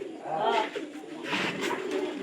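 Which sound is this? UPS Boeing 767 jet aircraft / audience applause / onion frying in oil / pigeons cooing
pigeons cooing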